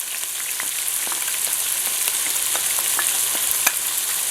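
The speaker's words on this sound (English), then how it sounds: "I'm going to add my chopped onion. And I'm going to saute these until they're kind of a golden brown" Chopped onion sautéing in a pan, a steady close frying sizzle with scattered crackles and pops throughout, no voices.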